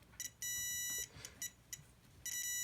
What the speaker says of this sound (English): You get a beep when you have a completed circuit with minimal resistance.